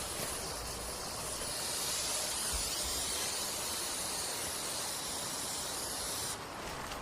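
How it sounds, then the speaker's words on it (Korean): Bee removal insecticide spray hissing steadily from a can during ground nest removal, a continuous loud aerosol hiss that runs for about six seconds before cutting off. "이후 보조자는 땅속에 벌 제거용 스프레이를 충분히 분사해 남아있는 벌을 제거하며"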